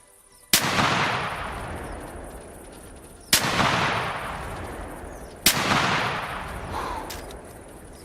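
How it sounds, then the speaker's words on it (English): Three loud shotgun blasts in the hunting video game theHunter Classic, spaced a few seconds apart, each with a sharp crack and a long decaying echo. "I could just take 2 shots here."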